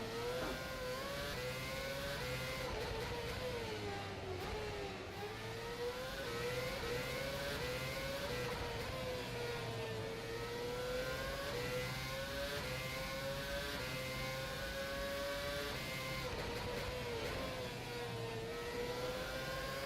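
Race car engine in the rFactor 2 racing simulator, a continuous high whine rising and falling through gear changes as the car laps a circuit, steady and loud throughout.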